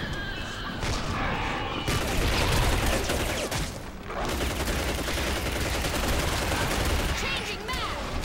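AK rifle fire in the free online shooter Hazard Ops, loud dense bursts of automatic gunfire with overlapping shots and explosions, continuous and close with brief pauses.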